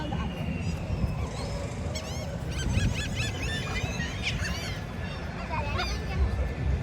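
Seagulls call at Wildwood, a chorus of repeated squawking cries over steady beach background noise, some near and some farther off.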